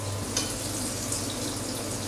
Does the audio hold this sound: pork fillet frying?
yes